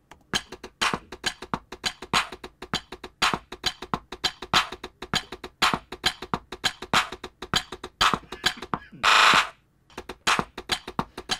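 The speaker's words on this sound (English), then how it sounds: "I added a clank sound to give me that nice Afrobeat sound" A sharp metallic clank knocks in a tight repeating Afrobeat drum pattern, with crisp percussive hits in a steady groove and a brief burst of brighter noise near the end, alone with no voices.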